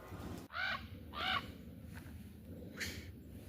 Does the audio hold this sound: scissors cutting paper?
no